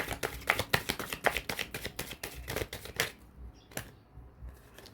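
Tarot cards shuffled in the hands during a reading, a quick run of crisp riffling snaps that thins out into a few separate flicks and then near quiet, close and fairly soft with no talk.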